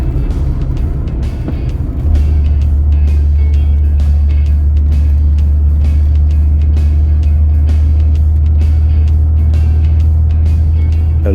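A Ford Taunus Coupe Fastback engine drones steadily from inside the car while driving through its five-speed gearbox, a loud low hum that settles into a constant tone after an early shift, with light rattles and ticks and no voices.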